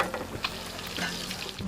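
Chicken pieces fry skin-side down in a curved pan, giving a soft, steady sizzle with a few small pops and faint stirring noises, heard close up and without talk.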